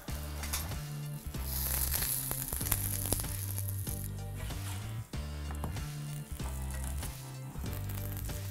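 Steady sizzling of a red bean burger patty frying in a pan, close up, with soft gentle music playing underneath throughout.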